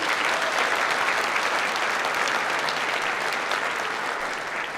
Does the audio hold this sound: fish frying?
no